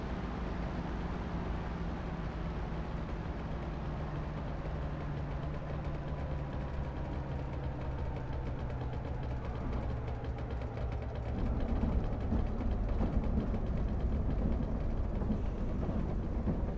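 Landing gear and flaps lowering in a War Thunder or DCS flight sim, heard as a faint, steady mechanical whirr with clicking over a constant aircraft engine drone, which grows slightly louder near the end.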